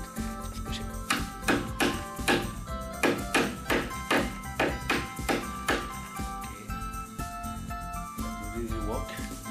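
A hammer taps repeatedly on a door knob while it is being changed, a run of about a dozen sharp metallic knocks in a steady rhythm, close and clear over a busy background.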